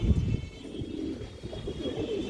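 A male Benarasi-type racing pigeon coos in low, throaty, pulsing murmurs, close and soft, over faint background hum.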